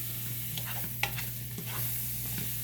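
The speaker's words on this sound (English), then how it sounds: "Get that butter melting down" Butter melts in a pan with a constant close sizzle and crackle under a steady hum, with a few faint clicks of stirring and no talking.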